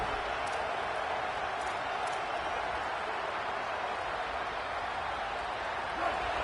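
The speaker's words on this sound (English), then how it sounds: "This crowd bringing the energy and noise early." Steady wash of stadium crowd noise from an NCAA college football video game, a continuous roar held at an even level from start to finish, with a few faint claps rising out of it.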